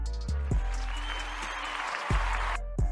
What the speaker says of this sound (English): Where my round of applause at?